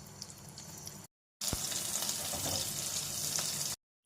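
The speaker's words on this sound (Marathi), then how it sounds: "आता हे वांग्याचे काप तेलावर फ्राय करून घ्यायचे" Eggplant slices coated with turmeric, salt and chili powder sizzle in hot oil in a wok, a steady loud frying hiss broken by a short gap, with a brief clatter near the start of the second stretch.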